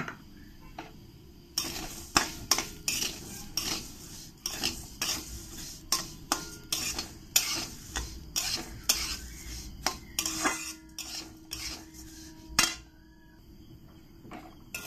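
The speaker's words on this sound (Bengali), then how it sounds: "এবার আমি এই সিমাইগুলো একটু ঘি দিয়ে আমি ভেজে নেব" Vermicelli (semai) is fried in ghee in a pan, with a faint low sizzle beneath repeated sharp scrapes and clinks of a spoon stirring against the metal, irregular and close.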